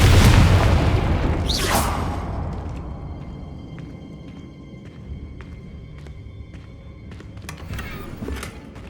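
The Confringo spell in Hogwarts Legacy sets off a loud booming explosion with a whooshing burst at the start, followed by a fading rumble and scattered magical chimes and pops.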